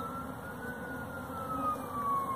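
A steady, wavering siren tone drifts slightly in pitch over a low rumbling background, moderately distant and continuous.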